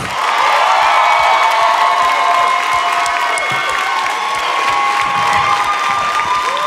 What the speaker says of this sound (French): Mesdames et messieurs, commencez à applaudir